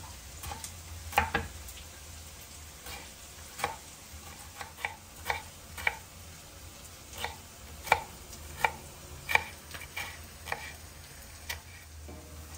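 Tomatoes being chopped on a board for a Punjabi-style mixed vegetable dish, with steady knife taps repeating about every half second. The cutting is fairly close and clear, with a quiet kitchen hiss underneath and no talking.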